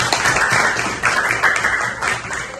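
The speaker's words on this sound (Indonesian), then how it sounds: "kasih tepuk tangan" Children in a classroom clap together after a teacher's call, a dense, steady patter of small hands lasting a couple of seconds, close and moderately loud with slight swells.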